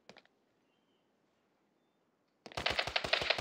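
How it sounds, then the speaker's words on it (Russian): Video game gunfire during a duel: a single brief shot, a pause of near silence, then a fast rattling burst of rapid shots, loud and close. "Нифига себе, уже стреляет."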